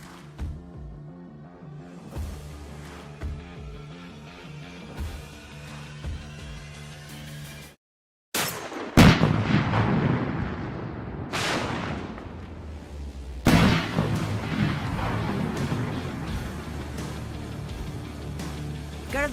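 Heavy booming shots from a 50 caliber gun ring out in a campaign ad, several loud blasts with long echoing tails after a brief silence, over music in the background.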